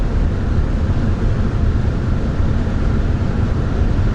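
Steady, heavy wind rush through the open sunroof and low road rumble fill the cabin of a moving Audi Q5 3.0 TDI V6 Quattro, loud and unbroken, with no one speaking.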